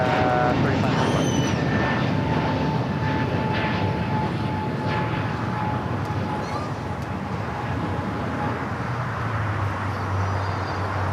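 A jet airliner roars steadily at Los Angeles LAX airport, a loud sustained engine rumble throughout while a voice talks over it and radio chatter is faintly present.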